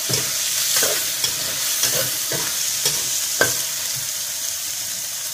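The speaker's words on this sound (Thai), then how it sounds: "ผัดไปเลยจ้ะ" Pork sausage, fermented pork and cabbage with chili stir-fried in a wok: loud steady sizzle broken by several sharp scraping clacks of a spatula against the pan.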